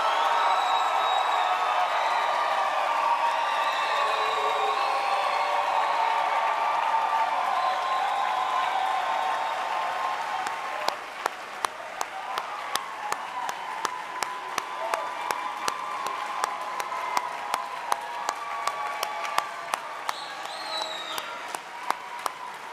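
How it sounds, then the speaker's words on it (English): A large audience fills a medical school convocation hall with sustained applause, a dense wash of clapping that thins midway into sharper individual claps continuing to the end. "I think we have one last applause left in this hall."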